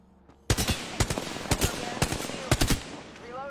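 Gunfire in a shooter video game: after a quiet lead-in, rapid bursts of loud close shots go off in clusters roughly every half second, with no talk over them.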